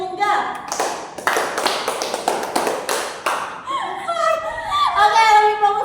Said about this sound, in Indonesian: tepuk tunggal, tepuk dua tunggal, tepuk tiga tunggal